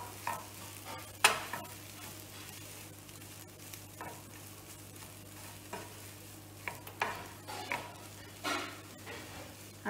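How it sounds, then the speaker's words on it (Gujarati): Sandwich masala filling with coriander sprinkled on top is stirred in a pan after the gas is turned off, producing soft scrapes and occasional sharper clinks at an uneven pace with a faint sizzle and no voices. "હવે હું હલાવી નાખું છું"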